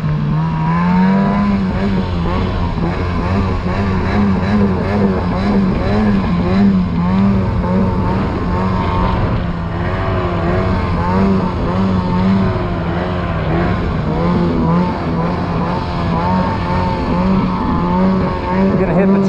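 A snowmobile fitted with a finger throttle rides through deep snow, its engine droning loud and close with constant wavering pitch shifts as the throttle varies, and a voice speaks over it.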